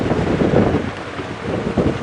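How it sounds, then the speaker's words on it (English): Strong afternoon wind buffets the microphone on an open-air live safari drive, a continuous loud, low rumbling roar that surges and eases without pause, with no voices. "It's very, very windy here this afternoon"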